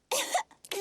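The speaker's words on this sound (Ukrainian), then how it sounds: "Як я й думав, кашель у Педро такий заразний." A cartoon pony coughs in a Peppa Pig episode: two quick, dry, close coughs, a longer one and then a short one, with nothing else heard.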